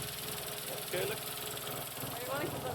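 Peugeot 106 XSI engine idling unevenly on three cylinders, a steady mid-pitched rumble throughout with a brief voice over it.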